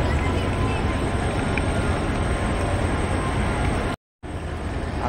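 A passenger train stands at a railway station at night, a steady loud rumbling drone with low mechanical hum, continuous apart from a brief cut near the end.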